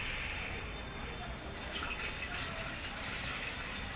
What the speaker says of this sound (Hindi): सर्वप्रथम गंगा जल डालेंगे, गंगा जल, फिर जल